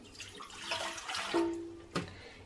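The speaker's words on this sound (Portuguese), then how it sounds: "Primeiro nós vamos colocar a água" Water poured into a bowl as the first ingredient for a Portuguese water-bread (pão d'água) dough, a close, steady splashing stream lasting a couple of seconds and ending with a brief sharper splash.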